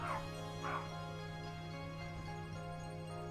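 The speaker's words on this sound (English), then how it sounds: "my neighbor's dogs are going crazy. I can hear them outside the window" The neighbor's dogs bark and yip outside a window, a couple of muffled, distant barks early on over a steady hum, then quieter yelps further back.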